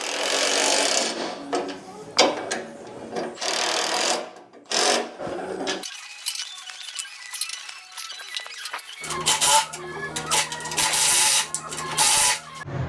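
Parts are bolted back onto a vehicle chassis during a chassis swap, with close, intermittent bursts of mechanical whirring and rattling from a power tool separated by short pauses.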